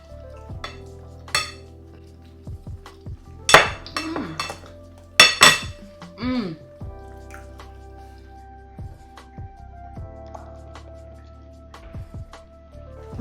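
Utensils clinking and scraping in a pot as a Cameroonian peanut and bitter leaf dish is mixed, several sharp clinks midway over a low steady background hum, no talking.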